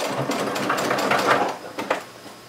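Sewing machine stitching across the short ends of fabric for a Christmas tote, a quick rapid whir of needle strokes that slows and stops near the end.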